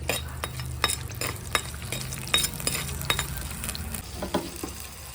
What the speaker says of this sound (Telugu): గరం మసాలా వేసుకుని దీని అన్నింటినీ బాగా వేయించుకోవాలి